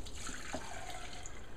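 Thick kefir poured from a container into a strainer, a soft continuous liquid stream trickling and splashing close by, steady throughout with no talking.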